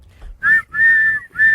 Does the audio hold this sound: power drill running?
no